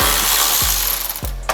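A 10 mm socket ratchet undoes bolts on a box in a first-generation Raptor truck, giving a rapid, close buzzing clicking with a few distinct clacks and some metallic rattling near the end.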